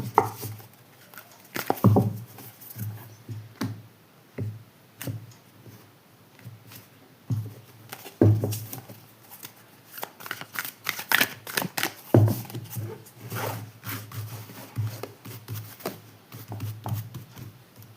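Tarot cards shuffled by hand, with bursts of rapid riffling and slapping that come in irregular waves, close and crisp over a quiet room.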